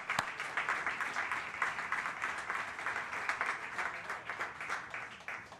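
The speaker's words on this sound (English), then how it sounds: "Can we give everyone a great round of applause?" A steady round of applause from a gathered crowd at a university dorm topping-off ceremony, dense and continuous clapping held at moderate distance for several seconds.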